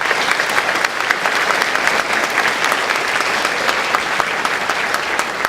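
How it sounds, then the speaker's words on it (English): An audience at a school moving-up ceremony claps steadily and densely for several seconds, a loud, even wash of applause from a large crowd. "Can you give them a round of applause, please,"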